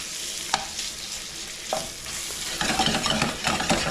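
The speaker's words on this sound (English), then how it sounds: "Give that a little stir." Pork ragù with lemon zest and rosemary sizzles in a pan while a spoon stirs it, giving a few distinct scrapes over a steady close frying hiss that swells toward the end.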